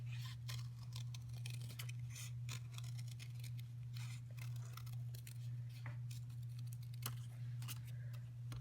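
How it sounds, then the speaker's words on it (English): Scissors cutting out the outer circle of a pom pom template, quiet irregular snips and rustles over a steady low electrical hum, faint and close, with no talking. "now I'm going to cut the outer circle out"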